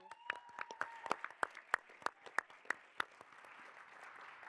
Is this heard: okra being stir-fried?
no